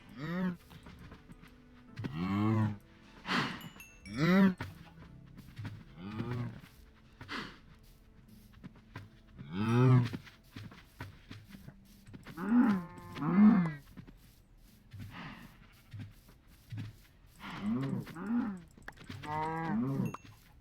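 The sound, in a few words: cows mooing in a farming video game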